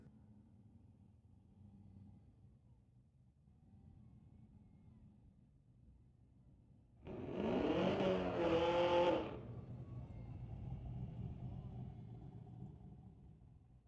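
A drag race at Mission Raceway Park pitting a Cadillac against a 2017 Chevy Camaro, with a loud engine roar bursting in for about two seconds over steady background rumble and murmuring crowd, then fading to a lower drone.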